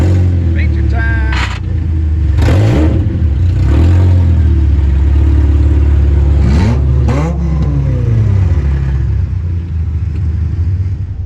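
Race car engine roaring steadily through a feature race at Baton Rouge Raceway, with loud sustained revving, low rumble and rising, falling pitch sweeps as cars pass; speech-like sounds surface briefly over the engine noise.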